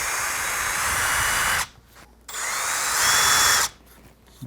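A power drill whirs loudly in two bursts while starting a hole in wood, cutting out briefly between them, close by and steady in pitch.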